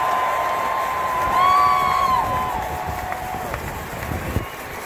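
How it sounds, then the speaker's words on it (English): Crowd noise at a National Championship celebration, with a swell of cheering and whistling rising mid-clip before settling into a steady murmur of the gathered fans. "So I want to give our staff a tremendous round of applause for how much they sacrifice."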